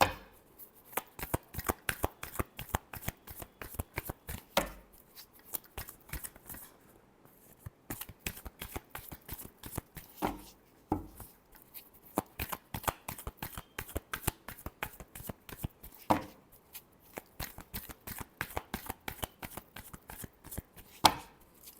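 Tarot cards shuffled by hand in a long run of rapid, crisp riffling slaps and flicks, close and steady throughout with brief pauses, no voices.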